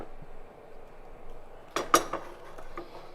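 A pot of purple hull peas set down on the stove, a sharp clank of metal about halfway through followed by fainter clinks, over quiet room noise.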